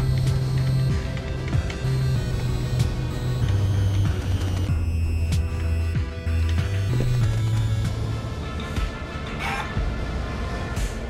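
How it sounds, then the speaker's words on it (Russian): Fast-spinning fans in the video game Guacamelee 2 whir and clatter with a steady mechanical hum, overlaid by ratcheting ticks and layered game effects that run loud and continuous throughout. "А тут вентиляторы быстрые."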